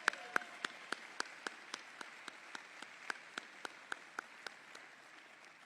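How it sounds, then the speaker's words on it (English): A single pair of hands claps at an even, slowly fading pace, about four claps per second, sharp and distinct against a quiet room during a university event welcoming a new head football coach. "Please join me in a round of applause."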